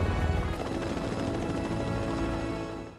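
Loud, steady whirring roar of a helicopter close by, holding constant before fading slightly at the end.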